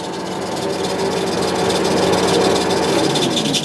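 An Oster revolving die head threader runs at 112 RPM in a machinery shop, a loud, steady mechanical drone with rumbling vibration that holds close and even throughout, with no voices.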